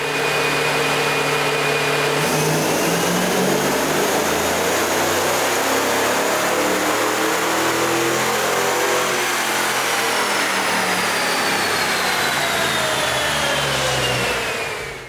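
A 1990 Ford Mustang GT Fox Body with 180,000 miles on the engine, strapped to a dyno and pulling through a long wide-open run, the engine note climbing steadily in pitch, loud and close with roller whine.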